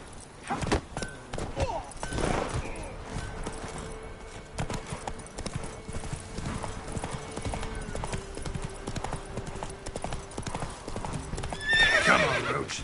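Horse galloping in The Witcher 3 video game, a steady run of clip-clop hoofbeats with an occasional whinny, heard under background game sound and a few voices.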